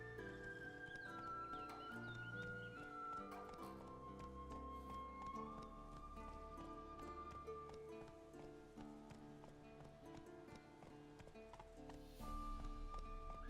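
Horse hooves clop at a steady trot beneath a sustained orchestral score in The Witcher 3: Wild Hunt, rhythmic and mid-distance, with no talking.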